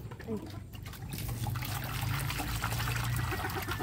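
Water pours steadily into a container, a continuous close trickle that swells into a fuller stream after the first second.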